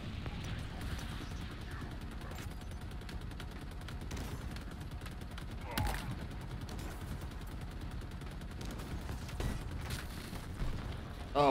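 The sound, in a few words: shock rifle firing in Halo Infinite, a video game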